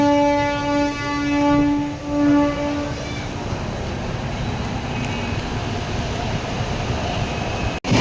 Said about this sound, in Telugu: సో స్పాట్లోనే బండి కూడా బయలుదేరిపోతుంది